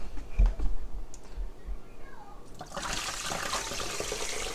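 Plant-based milk being strained over a kitchen sink, a steady broadband rush of liquid pouring and splashing that swells after a few seconds of quieter handling knocks and clinks.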